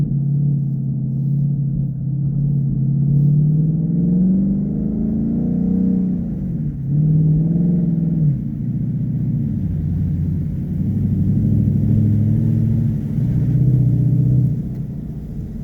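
A 2016 Ford Mustang GT accelerates through wet slush toward a roundabout, giving a loud, steady low engine rumble that rises, dips briefly, then builds again, heard from inside the car with no talking.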